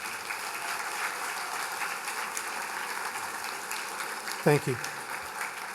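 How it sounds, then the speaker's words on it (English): Graduation audience applause from a large crowd, a steady, fairly faint wash of clapping heard from a distance, with a short spoken thanks near the end. "Would you please join me in giving them a round of applause?"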